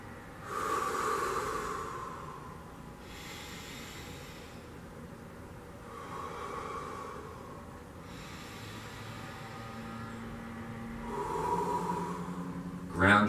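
Slow, deep breaths recur at regular intervals, each inhale and exhale a soft, airy rush, quiet and close over a low background rumble.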